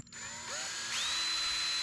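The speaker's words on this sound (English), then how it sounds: "I'm going to drill some pilot holes for the screws" A power drill boring pilot holes for screws in the wood of a shed door, its motor whining and rising in pitch as it spins up, close and steady with no talk.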